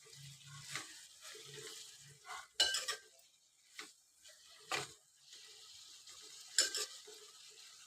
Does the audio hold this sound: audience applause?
no